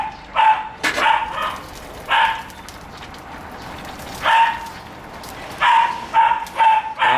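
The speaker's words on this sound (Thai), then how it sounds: "มีเสียงสุนัขนะไม่ใช่ของบ้านผม" A neighbour's dog barks in short repeated bursts outdoors, moderately distant, with irregular pauses between barks while a home cook prepares a Thai catfish jungle curry.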